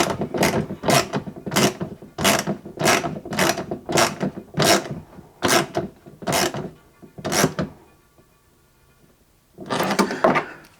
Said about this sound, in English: whilst holding the transducer exactly where we want it, we'll then tighten it up the rest of the way.